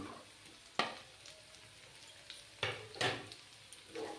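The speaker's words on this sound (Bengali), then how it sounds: "দিয়ে ভালো করে ফ্রাই করে নিতে হবে।" Chopped garlic, four or five green chillies and two onions fry in a pan. There is a quiet, low sizzle, and scattered louder scrapes and clinks come from stirring. No one speaks.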